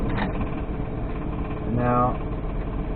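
A manual car's engine runs steadily at idle, a low continuous hum close by, with a short rise in revs as the clutch is let out and gas applied; a person talks over it.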